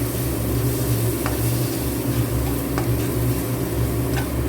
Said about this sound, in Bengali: মশলাটা একটু কষাবো, কষিয়ে তার মধ্যে জল দেব